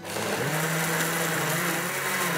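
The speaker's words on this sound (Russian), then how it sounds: "Все взбиваем в блендере" A blender whirs steadily as it blends yogurt and banana into lassi, a loud continuous motor drone with a slight pitch shift early on, close and alone with no talk.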